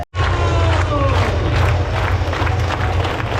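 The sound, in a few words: crowd at the start of UTMB ultra trail race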